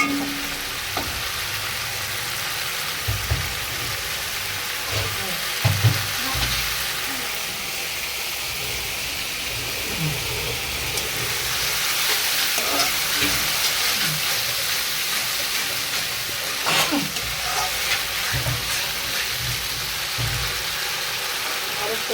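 Spices fry in a pan for a rui fish curry with aubergine and beans, giving a close, continuous sizzle and hiss with scattered stirring scrapes and knocks.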